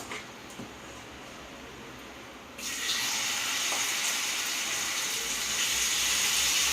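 Liver pieces drop into hot oil and set off a sudden, steady sizzle that swells and stays loud and close. A quieter kitchen hiss comes before it.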